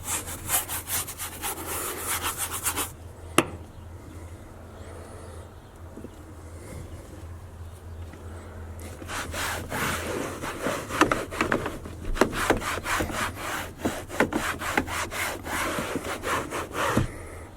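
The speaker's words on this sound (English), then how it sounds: "once I use it with the brush, all the gunk just seems to like come out" A stiff brush scrubbing grime off plastic trim inside a single-cab Chevrolet Silverado, rapid rhythmic back-and-forth strokes close to the microphone, pausing briefly before resuming in bursts.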